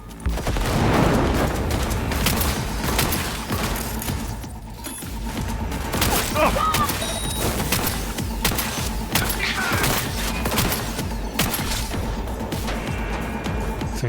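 A grenade blast and gunfire in the video game Cyberpunk 2077: a loud burst of crackling shots near the start, then continuous dense combat noise with repeated impacts and scattered bangs throughout.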